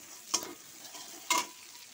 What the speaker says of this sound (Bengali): তো চলো এটা ভেজে নিই ভালো করে